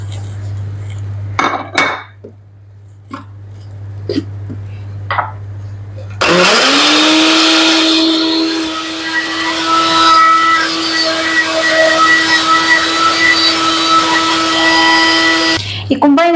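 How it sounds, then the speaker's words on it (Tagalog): A few clinks and taps give way to a blender roaring into a loud, steady grind of oats and carrots that runs for about ten seconds, then cuts off. "Walang rasp, so i-blender na lang natin."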